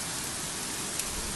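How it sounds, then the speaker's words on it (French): Heavy storm rain pours down in a dense, steady hiss of drops hitting surfaces, loud and close, with one brief louder tick near the end. "Regardez, il pleut,"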